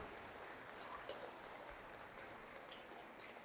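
A church congregation at a Mass in Nangis applauding for mothers, a faint, steady, distant patter of clapping that fills the whole stretch without voices.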